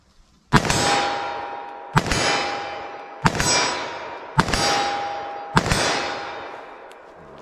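Five loud .357 Magnum revolver shots fired at a steady pace, each a sharp crack followed by a ringing clang as the bullet strikes a steel target, with the metallic ring decaying between shots.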